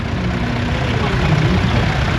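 Vintage grey Ferguson tractor with three-point linkage, its engine running steadily at close range with a low, even rumble throughout, likely idling.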